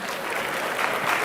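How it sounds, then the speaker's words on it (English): A brief burst of hall applause at a political party election congress, a steady wash of many hands clapping throughout. "We can give a big applause to Christel."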